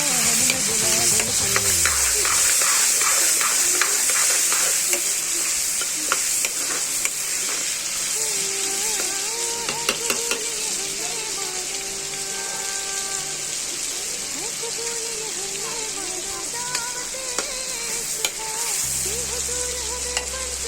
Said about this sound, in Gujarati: રીંગણાને હલાવી નાખશું.